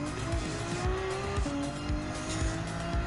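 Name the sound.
V12 race car engine in Gran Turismo 7 video game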